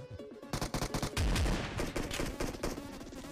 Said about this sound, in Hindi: इसको देखो कैसे मारेंगे शॉटगन से